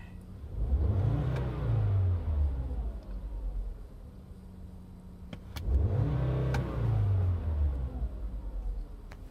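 A 2012 Volkswagen Jetta 2.5 SE's 2.5-liter four-cylinder engine idles, then revs up and settles back twice in two distinct swells, heard close and fairly loud, with no talking.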